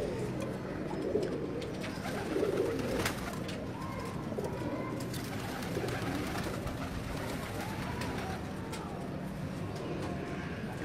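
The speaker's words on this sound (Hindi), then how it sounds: "ये आप गौर से ज़रा इस कबूतर को देखें" Rampuri-breed pigeons coo in low, soft repeated phrases over a constant ambient hum, sustained throughout without speech.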